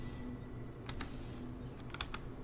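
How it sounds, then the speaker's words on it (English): Computer keyboard keys clicking during a gaming session, two quick pairs of faint, close taps over low background hum. "You guys are probably gonna hear my keyboard."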